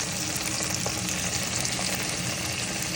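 Chicken pieces frying to golden brown for chicken rice, a dense, steady sizzle of hot oil that stays loud and even throughout, with no voices.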